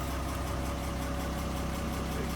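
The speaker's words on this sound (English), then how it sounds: "let's give the sound of the engine right now" A Mitsubishi Fighter truck with a 6D14 diesel engine idles steadily. The low, even rumble runs continuously and close, with no voices over it.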